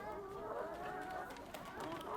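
Chickens clucking softly in a farmyard, several birds murmuring together in a steady, continuous backdrop.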